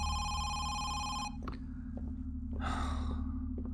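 Telephone rings in the horror video game Home Sweet Home, a bright electronic ringing that stops after about a second, followed by faint clicks and breathy sounds, then a brief burst of higher noise.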